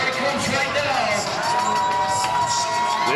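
An MMA crowd cheers and shouts continuously as a pro lightweight fighter enters the arena, a dense, loud wall of voices with whoops rising through it.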